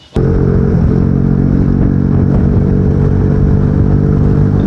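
A motorcycle ridden in race mode holds a loud, steady engine roar from just after the start, a sustained high rev with no let-up and no voices.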